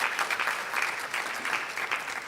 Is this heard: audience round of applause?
yes